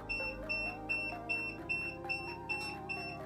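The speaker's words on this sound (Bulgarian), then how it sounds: "Спирам алармата" A Bluetooth iTag key finder in a backpack sounds its alarm: sharp, high beeps repeat evenly about twice a second, close and clear over a low background tone.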